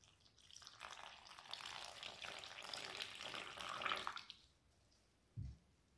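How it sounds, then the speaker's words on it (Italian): Water pours into flour in a steady splashing stream for a few seconds, close by, then stops, followed by a brief soft low thump. "e versiamo acqua"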